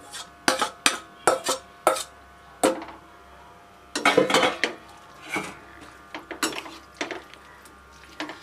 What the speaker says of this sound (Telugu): మ్యారినేట్ చేసి పెట్టుకున్న చికెన్ ఉంది కదండి, ఈ చికెన్ వేసేసుకుందాము